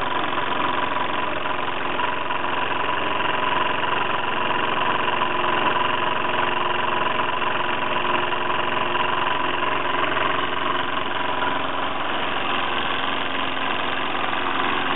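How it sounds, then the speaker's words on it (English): Bowman M140, a small, compact twin-cylinder steam engine on a boiler, idles steadily with a continuous close mechanical chug and vibration throughout, no voices. "It really is a lovely little engine, very compact, the smallest twin cylinder I've got."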